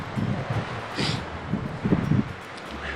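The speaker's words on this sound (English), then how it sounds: "If it blows any harder, the wind is gonna win." Strong wind gusting outdoors in Montana deer and elk country, a broad roaring rush with buffeting microphone noise and rustling, swelling in uneven pulses throughout.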